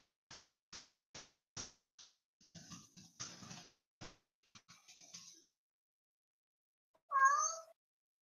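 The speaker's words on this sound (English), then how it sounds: "My cat meows." A domestic cat gives one clear, close meow near the end, after a run of light taps, rustling and handling noises in an otherwise quiet room.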